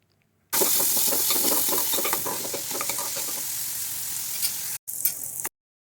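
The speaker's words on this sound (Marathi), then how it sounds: "एक मोठा कांदा मी बारीक चिरून घेतला आहे आणि तो आपण या तेलामध्ये घालूया" Finely chopped onion is added to hot oil and sautéed, giving a loud, steady sizzle with stirring scrapes from start to finish, then a brief cut before it resumes.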